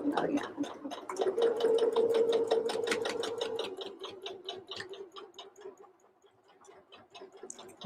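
A sewing machine runs steadily, back stitching across tote bag fabric in a rapid, close mechanical patter, slowing and easing off near the end.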